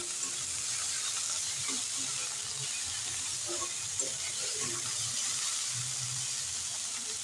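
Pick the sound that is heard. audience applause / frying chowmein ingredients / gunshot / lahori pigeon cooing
frying chowmein ingredients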